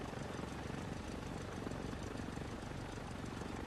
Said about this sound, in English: but you can hear the engines here